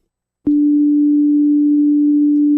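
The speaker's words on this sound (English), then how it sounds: "let's send in a D sine wave" A pure, steady D sine tone starts abruptly after a brief silence and holds at one low-mid pitch, loud and unwavering, with no voices.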